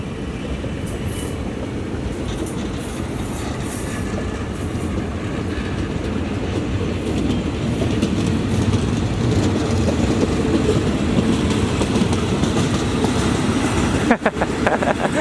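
A commuter train departing Khlong Nueng halt in Thailand in the evening rumbles steadily with rolling wheel noise, growing slightly louder as it picks up speed, with a brief clatter near the end.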